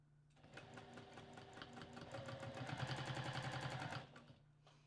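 A domestic sewing machine stitches in free motion quilting, a fast even run of needle strokes that speeds up and stops after about four seconds, quiet and close, with no talking.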